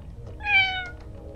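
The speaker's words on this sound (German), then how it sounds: "Jetzt sitzt die Katze auf dem Bett." A cat meows once in a video game set in 1950s Alcatraz, a clear mid-length meow rising and falling over a quiet background.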